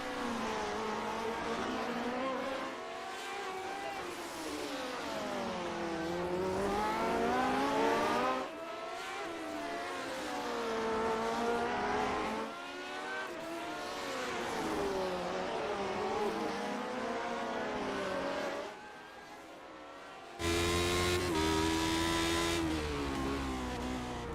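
Lotus 79 Formula 1 cars racing around the Long Beach street circuit in a racing video game, engines wailing loudly and continuously, with repeated rising and falling pitch sweeps through gear changes and a brief dip near the end.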